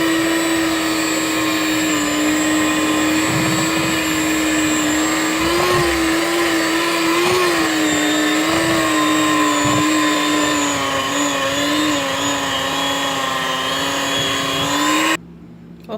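An electric mixer whirs loudly and steadily, blending vanilla essence with smooth peanut butter for an ice cream base. The motor tone wavers slightly as it works, then cuts out abruptly near the end.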